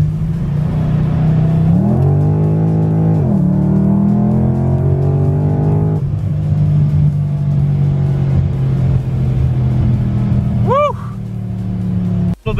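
A car fitted with a 3600 stall converter accelerates hard from second gear, its engine roaring loud and close as the pitch climbs, eases back, then holds steady before a brief tire chirp near the end.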